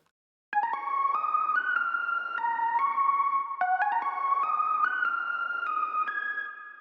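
A layered synth lead for a beat plays a bright, buzzy melody of sustained notes stepping up and down, steady and fairly loud on its own with no voices.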